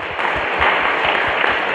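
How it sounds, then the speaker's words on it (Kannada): Audience in a church gathering claps loudly and steadily together, a dense continuous wash of hand claps with a few sharper individual smacks. "ಹಾಗೆ ಹಾಡಬೇಕನ್ನೋರೆಲ್ಲ ಒಮ್ಮೆ ಜೋರಾಗಿ ಚಪ್ಪಾಳೆ ತಟ್ಟಿ ನೋಡೋಣ."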